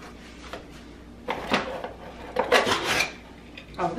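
Plastic lids and cups from a new blender set clatter and scrape together in short handled bursts, close by with no speech.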